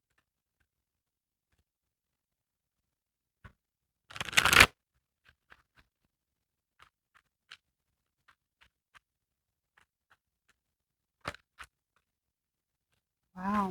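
Tarot cards shuffled by hand during a reading, a short loud riffling burst followed by scattered light taps and flicks, then a second brief burst near the end, close up with a single brief exclamation.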